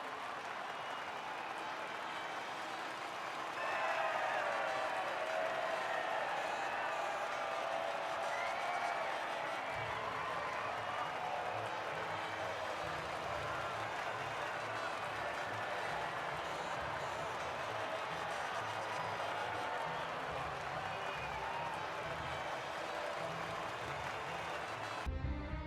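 A distant grandstand crowd at the Formula One Spanish Grand Prix applauds and cheers as Aston Martin's drivers walk out to the podium, a steady wash of clapping and crowd noise under a commentator's voice.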